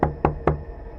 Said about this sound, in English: a sharp knock came at the front door.